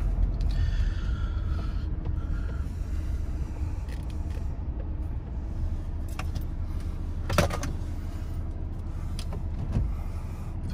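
Car arriving at a large garden pond, heard as a steady low engine and road rumble from inside, with occasional creaks and a jingle of keys, no talking.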